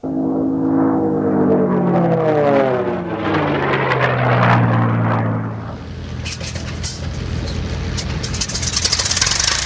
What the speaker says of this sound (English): there's no sound quite like these unlimited racing engines going full out